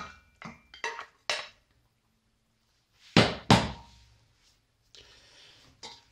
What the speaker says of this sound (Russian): сейчас курицу прям полностью с соком добавляем в кастрюлю с макаронами